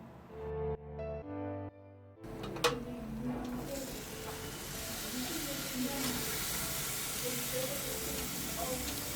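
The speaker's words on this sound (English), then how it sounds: "you can hear the beautiful sound, the sizzle when it goes on top of the grill" A brief musical passage gives way to a loud, steady sizzle of pork ribs on a hot grill, a continuous broadband hiss with occasional crackles.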